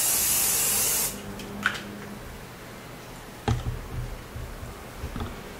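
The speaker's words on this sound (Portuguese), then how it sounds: "Solto o cabelo e passo o spray por baixo." A hairspray can sprays in one loud burst under loosened hair. The hiss lasts about a second and is followed by quiet handling noises and soft clicks.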